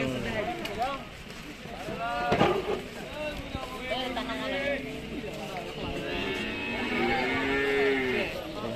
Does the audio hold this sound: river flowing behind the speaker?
no